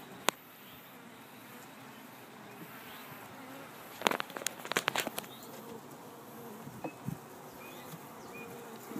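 Honey bee drones crowding the tops of hive frames during an open inspection, giving a faint, steady insect buzz with a few sharp close handling knocks and rustles partway through.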